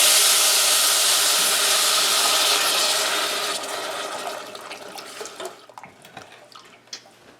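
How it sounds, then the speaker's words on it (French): Beef broth poured into a pot of vegetables for a demi-glace, a steady splashing pour that fades after a few seconds into quieter drips and trickles, close by and without talk. "Et on ajoute notre bouillon de bœuf."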